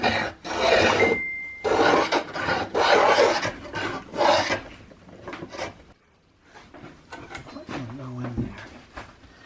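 Hand scraping in the wooden stock's barrel channel of a Tennessee iron-mounted flintlock squirrel rifle under construction: loud, rasping strokes repeated close up, then quieter, lighter scrapes with a few small knocks.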